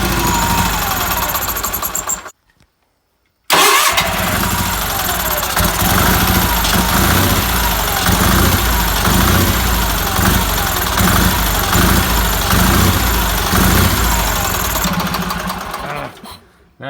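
A 1969 Roper RT16T clone diesel garden tractor engine, shown here after a shot of carb cleaner, cranks loudly, cuts off briefly, then fires and runs with a rough, knocking idle close by before dying away.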